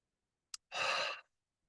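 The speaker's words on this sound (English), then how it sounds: "So I invite you to take a deep breath." During a guided meditation, a single deep, breathy exhale follows a short intake sound, close and soft, about half a second long, in otherwise quiet surroundings.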